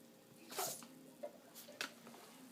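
A Yorkshire terrier sneezes indoors: a sharp, close snort-like burst followed by two smaller quick sneezes, with a quiet room hum underneath.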